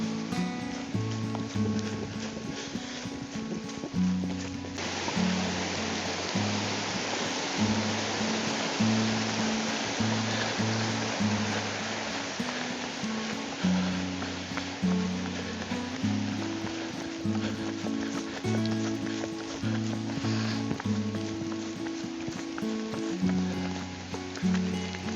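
Steady broadband rush of a slightly muddy creek flowing in the rain, continuous and fairly close, with a repeating low tonal pattern running underneath throughout.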